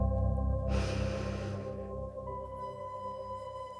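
Slow, deep inhalation during a guided breathing exercise, a broad breathy rush lasting about a second over steady background hum, then fading back to quiet.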